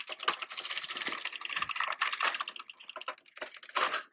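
A domestic knitting machine's carriage sweeps across a row at tension 9, giving a continuous close mechanical clatter and rattle with rhythmic clicking, swelling and easing over about four seconds.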